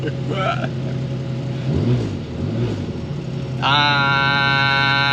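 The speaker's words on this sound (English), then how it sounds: "Got an exhaust leak." A Porsche 911 964 engine idles and then revs, with a rough, puffing rasp of an exhaust leak; voices talk briefly over it.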